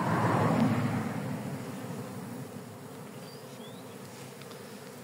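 Bees buzz around a log beehive in a garden as a dense, steady swarm drone, loudest at first and then settling into a continuous hum with no voices.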